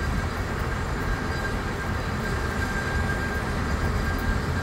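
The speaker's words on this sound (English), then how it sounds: "That old steam train, it still goes up multiple times a day." Old steam cog railway train running on a mountain line, a steady, dense rumble and clatter with constant hiss, close and loud throughout with no pauses.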